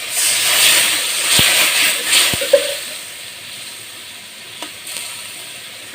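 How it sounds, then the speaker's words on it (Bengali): Spiced masala frying in a pan for a banana-stem (thor) curry gives a steady close hiss and sizzle, with a couple of sharp clicks and brief bursts as water goes in. "মশলাটা চেঞ্জ হয়ে গেছে এবার জল দিয়ে দেবো"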